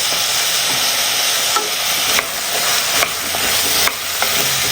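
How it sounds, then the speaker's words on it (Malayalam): Mixed vegetables stirred in hot oil in a pan, a loud steady sizzle broken by several sharp spatula scrapes, close up with no talking. "എണ്ണയിൽ കിടന്ന വെജിറ്റബിൾസ് ഒക്കെ ഒന്ന് വാടി കിട്ടണം."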